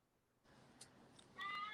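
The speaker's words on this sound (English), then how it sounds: "is there a cat meowing?" A house cat meows faintly in the background of a quiet indoor room, with one short, higher meow near the end.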